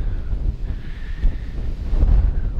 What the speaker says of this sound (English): we stayed away from the trees, why it's so windy